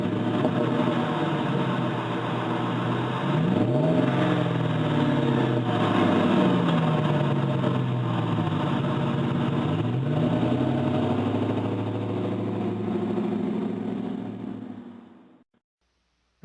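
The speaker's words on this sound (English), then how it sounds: "I added a Spectre cold air intake and a Flowmaster exhaust" A chipped and tuned 2009 Dodge Ram 1500 Quad Cab SLT with a Spectre cold air intake and Flowmaster exhaust idles loud and close, swelling through a few revs, then the engine shuts off and goes quiet near the end.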